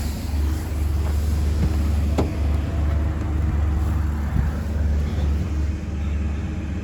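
A 600-horsepower race car drives on the road, its engine a steady, heavy low drone with slight swells, heard close and continuous with no talk.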